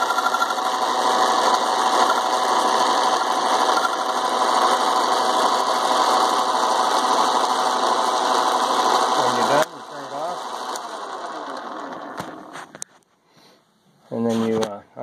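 A 100-year-old key cutting machine runs with a steady whirring, grinding drone and a high ringing tone for about ten seconds, then winds down to quieter mechanical clicks and rattles, ending with brief handling sounds.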